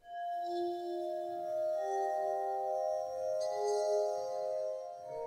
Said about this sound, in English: I'll be making music with this wine glass